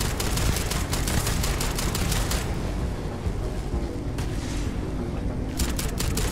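Dense, continuous gunfire in the Starfield video game, a rapid, unbroken rattle of shots with heavier bursts layered over it, loud and steady throughout with no voices.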